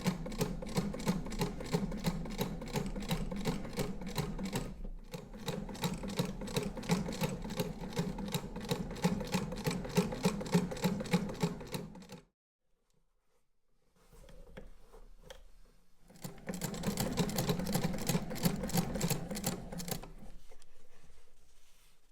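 An 1869 Wheeler & Wilson No8 treadle-era sewing machine runs in fast, even mechanical clatter, stopping briefly, going quiet for a few seconds, then resuming its rapid rhythmic ticking nearby.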